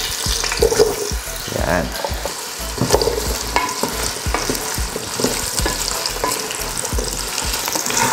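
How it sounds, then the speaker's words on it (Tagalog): Potatoes sizzle steadily in hot oil in a pan while being stirred for caldereta, with irregular scraping and clattering of the utensil; a voice briefly speaks over the frying. "Diretso na natin itong mga patatas."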